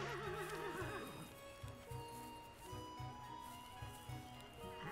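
Horses neighing and whinnying in the ranch video game The Ranch of Rivershine, a loud whinny up front followed by steady clip-clop hoofbeats over game music.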